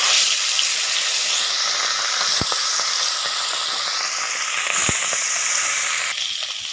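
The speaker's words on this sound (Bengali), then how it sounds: "তো এর মধ্যে আমি দিয়ে দেব মাছ। তো মাছগুলো দিয়ে দেব।" Bhola fish sliding into hot oil in a heated wok for a Bengali sour fish curry, giving a steady, close, loud sizzle with a couple of sharp pops and no talking.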